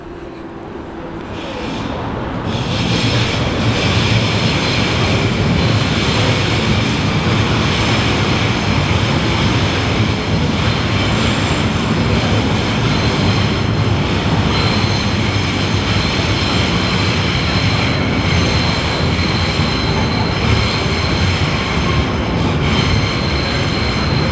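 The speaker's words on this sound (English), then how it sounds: "Those are high-speed trains, but they don't go high speed on this particular bit of the track." A loud, sustained rumble of high-speed trains rolling past close by at reduced speed beside Rochester High Street, Kent, building quickly then holding a steady roar of wheels and motors.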